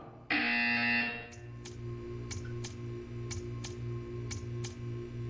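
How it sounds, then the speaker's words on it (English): Buzzer from the video game Portal 2: a loud electronic buzz lasting about a second, followed by a faint regular ticking over a low steady hum. "You will hear a buzzer."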